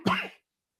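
A single short cough, close and fairly loud, cut off abruptly and followed by silence.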